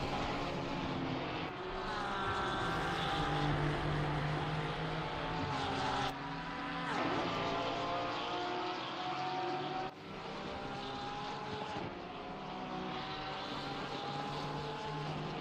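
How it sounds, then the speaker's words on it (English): A Porsche 992 GT3 race car engine in a sim-racing game at Watkins Glen holds a steady, loud roar, with the pitch climbing and dropping through gear changes and no talk over it. "the Porsche 992 GT3 car does have as much of a glorious engine sound"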